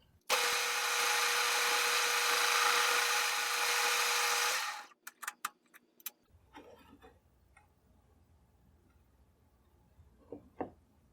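Facing the cut end of a Krag bayonet part brings a loud, steady high-pitched machining whine for several seconds, then it stops and is followed by a series of sharp clicks and light handling knocks.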